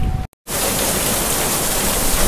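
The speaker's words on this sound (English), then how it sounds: "Look at it raining again," Steady rain falls outside, a dense hiss filling the clip except for a brief dropout near the start, with no talking.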